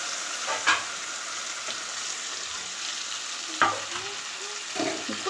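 A tomato, green chili and coriander chutney is stirred in a hot pan. A soft background sizzle runs throughout, broken by a few louder scraping and stirring strokes close by.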